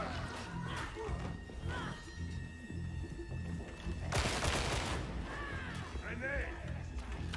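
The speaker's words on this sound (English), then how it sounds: "Grenade." A grenade explodes in a video game: a roughly one-second broadband blast in the middle of a stretch of game noise, with a player's voice talking over the audio before and after.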